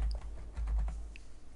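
Keys clacking on a computer keyboard while a name is entered into a Microsoft Access macro dialog, a short close burst of several quick taps over a low background hum, with no voices.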